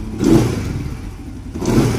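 Wheeltrade Fury motorcycle engine being revved after a battery swap, two short throttle blips rising and settling, close and fairly loud with no talk.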